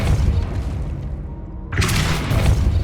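A Depulso force spell cast in Hogwarts Legacy lands as a deep, heavy boom that fades to a lull, then a second loud, bright blast bursts in and rumbles on to the end.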